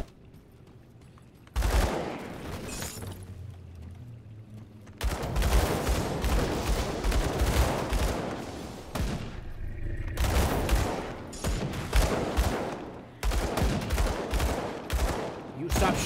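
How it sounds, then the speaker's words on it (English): Gunfire in the action RPG Grim Dawn, played as a Purifier: loud bursts of rapid shots in several long stretches, each separated by a brief pause. "shooting the doorway"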